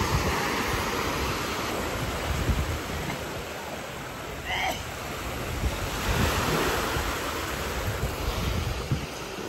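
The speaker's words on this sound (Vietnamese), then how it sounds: "Ở đây sóng biển quánh từng đợt" Sea waves break again and again at the La Gàn fishing harbor in Tuy Phong, Bình Thuận, Vietnam, a continuous washing roar with wind buffeting the microphone.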